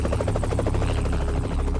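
Helicopter rotor chopping in a steady, rapid rhythmic thump with a buzzing whine, loud and continuous, close by, with no voices.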